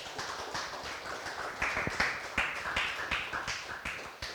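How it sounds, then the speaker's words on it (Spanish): Church congregation clapping in praise to the Lord during a sermon, a rhythmic, fairly close burst of hand claps with uneven beats throughout. "Dele un fuerte aplauso a nuestro Señor"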